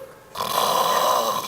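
A voice imitates snoring, a doctor demonstrating the airway narrowing behind it: after a short quiet moment, one drawn-out, rasping snore-like rattle lasts about a second, loud and close.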